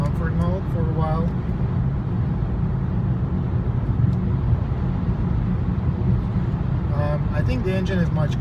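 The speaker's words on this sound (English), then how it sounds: "You can hear a lot of wind noise because you cannot hear the engine." Steady broadband wind noise inside a moving 2016 BMW 340i with a quiet engine, constant and fairly loud, with brief bursts of talk near the start and end.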